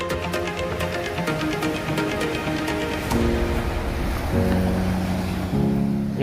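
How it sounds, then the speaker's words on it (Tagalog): Ocean waves at Fujairah open beach roll and surge steadily, loud and close, with a broad rushing wash and a low rumble underneath. "kita nyo, lalaki ng alon."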